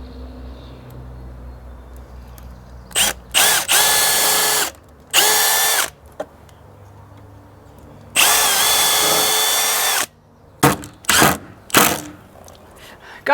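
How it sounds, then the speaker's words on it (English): A power drill pre-drills holes in wood for the hinges of a homemade wooden gate, three loud whirring runs of a few seconds each, with short clicks and handling noises between them. "time for the hinges. And pre-drill again, just play it safe."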